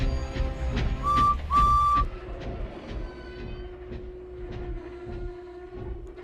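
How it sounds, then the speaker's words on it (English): A train whistle sounds twice in short blasts, then a steady tone hums under the clatter and rumble of rolling rail cars. "Alright lads, train's here."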